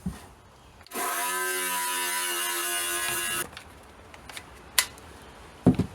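A power wire brush scrubs an engine part during a 1999 Dodge Ram engine swap, giving a steady, loud whirring grind for about two and a half seconds, then stopping, followed by a few scattered knocks and clicks.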